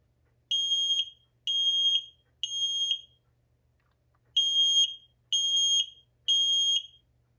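A Kidde 1275 smoke alarm sounds its code 3 temporal pattern: two sets of three loud, shrill beeps separated by a short silence, close and clear with no talking.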